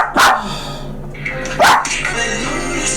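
A pet dog gives two loud, close, sharp barks about a second and a half apart, with quieter household sound between them.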